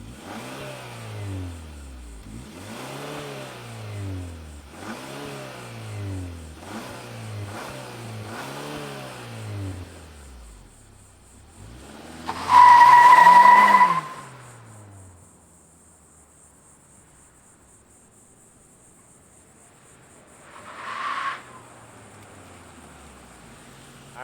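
A 2023 Kia K5 GT's 2.5-liter turbo engine runs through a steady series of rhythmic, repeating rev swells, moderately loud. A brief louder burst follows, then a quieter stretch with one more short surge.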